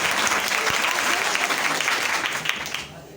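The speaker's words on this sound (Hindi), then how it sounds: "बहुत जोरदार तालियां" Loud, dense audience applause at a gathering, sustained clapping filling the space and tapering off near the end.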